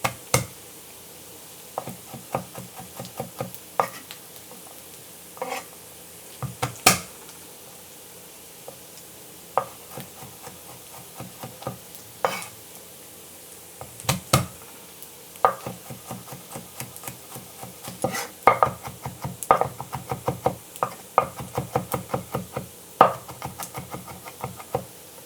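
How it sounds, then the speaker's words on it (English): Garlic and onion sizzling in a pan while being stirred and chopped, with steady light frying under scattered knocks and scrapes of a utensil against the pan, close and moderately quiet with no talking. "now that this onion's cooked down a bit, I'm going to go smash up some garlic and throw that in"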